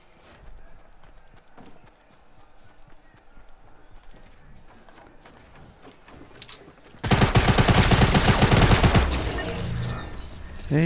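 Submachine gun fire in Fortnite breaks out as a loud, sustained rattling burst in the second half, following quieter scattered shots and footsteps-like clatter earlier.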